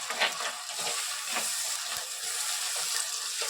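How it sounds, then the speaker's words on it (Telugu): Ginger garlic paste with onions fries in a pan, giving a steady close sizzle and hiss with occasional stirring scrapes. "అల్లం వెల్లుల్లి పేస్ట్ కాస్త పచ్చివాసన వేయలేంత వరకు మనం వేయించుకోవాలి"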